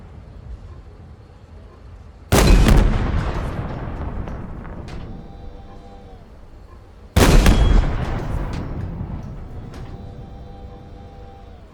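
Two loud gunfire bursts in Halo Infinite, each a sharp blast at about 2 and 7 seconds that trails off into a long rumbling decay, with faint effects in between and no talking.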